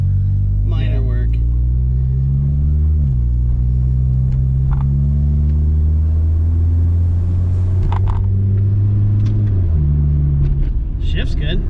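A 2001 Honda Civic with a freshly swapped transmission drives along, its engine droning loudly as the pitch climbs and then drops at two gear changes, with voices now and then over the cabin rumble.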